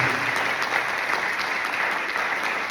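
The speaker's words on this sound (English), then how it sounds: "give them a lovely round of applause, please" A crowd claps steadily at a Navaratri yagya in a Hindu temple in Pickering, Ontario, a dense, sustained round of applause filling the room without letting up.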